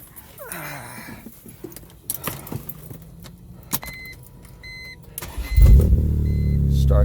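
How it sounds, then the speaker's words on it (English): A 2004 BMW M3 starting with a newly cut key: keys jingle and clink in the ignition, a few soft beeps chime, then the engine cranks and catches into a loud, steady idle close by. "Starts up, vehicle works."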